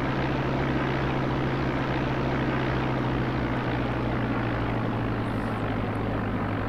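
Steady propeller airplane drone in the X-Plane flight simulator during a landing approach, a continuous loud engine hum with strong low tones holding evenly throughout, no voices.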